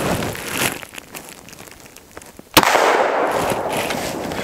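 A 10mm Glock pistol fires a single sharp, loud gunshot at close range, following a stretch of quieter rustling and handling noise.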